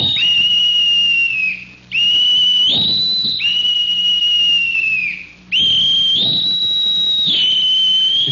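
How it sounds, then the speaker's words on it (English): A bosun's pipe on a navy ship pipes all hands to chow: two long, shrill shipboard whistle calls, each held steady before rising to a higher pitch, loud and close, with a short pause between them. "That's the blast of the bosun's pipe piping down all hands to chow."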